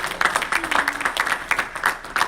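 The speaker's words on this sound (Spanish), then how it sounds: "Un aplauso fuerte a Cristo, gloria a Dios." A church congregation at a men's revival campaign applauds, with rhythmic, fairly loud clapping in a steady pattern and faint voices underneath.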